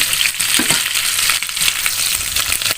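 Chili peppers hit a hot pan for spicy chicken, giving a loud, continuous sizzle and crackle with scraping stir sounds.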